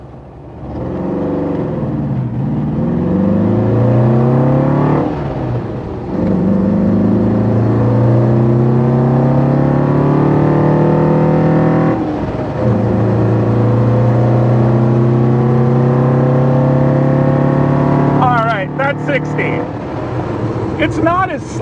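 A 1972 Porsche 914 with a 1.7 engine accelerates hard from a standstill, its engine note rising through several gears with short breaks between shifts and loud induction noise close by, and a brief voice near the end.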